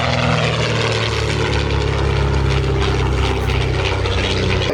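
A propeller-driven airplane flies in on a curved approach to a runway at the Shuttleworth airshow, a steady, loud engine drone with a constant hum that persists throughout, with no talking.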